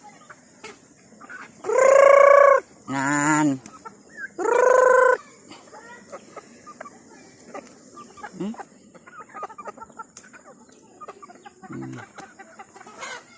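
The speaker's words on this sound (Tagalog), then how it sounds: "Ara ya mga manok oh." Chickens around a house, with loud close clucks and squawking calls in three strong bursts early on, then quieter scattered clucks and a brief call later, a person saying a word once.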